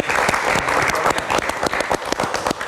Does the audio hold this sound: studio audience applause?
yes